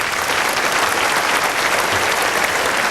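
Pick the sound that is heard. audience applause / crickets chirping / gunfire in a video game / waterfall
audience applause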